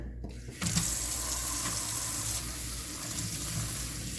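Tap water gushes steadily into a kitchen sink over a slab of seasoned pork belly being rinsed, starting abruptly and running continuously, close by.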